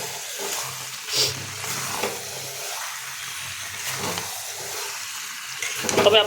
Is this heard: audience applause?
no